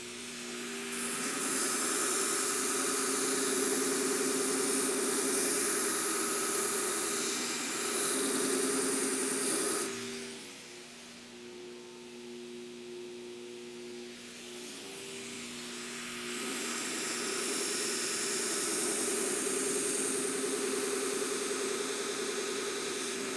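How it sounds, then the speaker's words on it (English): A 2x72 belt grinder removes metal from a keris blade, a loud, steady abrasive roar with a hissing edge that runs continuously, dips for several seconds as contact eases, then swells back to full strength. "now I'm going to step over to my 2x72 grinder and remove the rest of this"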